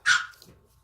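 A small pet dog gives one sharp, close bark indoors, then quiet.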